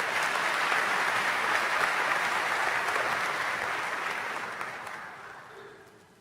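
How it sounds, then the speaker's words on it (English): Audience applause at a Johns Hopkins University School of Medicine convocation, a full hall clapping steadily and then gradually fading toward silence at the end. "so get an extra round of applause"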